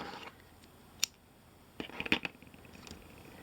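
Scissors snip through a knitting yarn tail, a few sharp close-up clicks with a cluster of quick snips near the middle, quiet and without talk.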